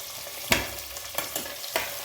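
Onions and green chillies frying in hot oil for chicken biryani, a steady sizzle broken by a few sharp stirring scrapes at irregular intervals, close and moderately loud with no talking.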